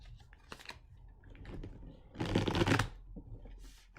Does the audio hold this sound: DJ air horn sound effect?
no